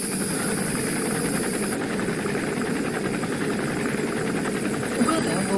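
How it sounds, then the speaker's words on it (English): An enemy gunship helicopter in Metal Gear Solid 5, its steady rotor thump and engine drone continuous and fairly near, with game sounds layered over it. "That's an enemy gunship."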